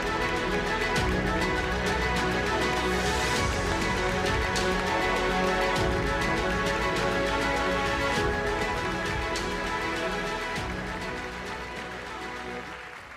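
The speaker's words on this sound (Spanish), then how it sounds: "os pido a todos un fuerte aplauso para Rafa Nadal" A large audience gives a loud, sustained round of applause welcoming Rafa Nadal at a university presentation event, dense clapping that holds steady for several seconds and then slowly tapers toward the end.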